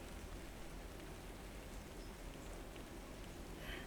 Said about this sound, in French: Ou d'une pluie battante sur les pavés?